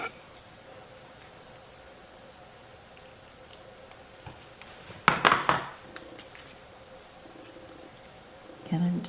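Scrap of paper being ripped for a mixed media craft tag, a short sharp tearing burst at close range in an otherwise quiet room, then a brief rustle toward the end.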